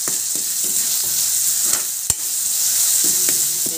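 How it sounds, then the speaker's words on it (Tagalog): Pork adobo sautéing in a pan with garlic and onion, a steady loud sizzle with scraping stirs and a sharp spatula knock partway through. "dito na rin ako nag-prito ay nag-gisa ng ating adobo"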